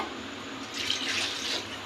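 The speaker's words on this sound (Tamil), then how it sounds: "தண்ணி ஊற்றிட்டு" Water poured into a pot of fish curry on a home stove, a soft hissing, splashing pour swelling after a quiet start, close and fairly faint, with no talk.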